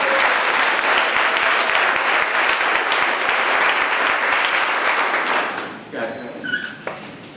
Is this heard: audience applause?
yes